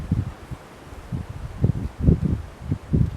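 Strong outdoor wind of 16-17 knots with higher gusts, buffeting a microphone in irregular low rumbling bursts that swell and fade over a few seconds, close and rough.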